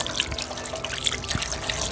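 Water gushes from a household tap after a pump motor is switched on, a steady close hiss of flowing water that runs without pause.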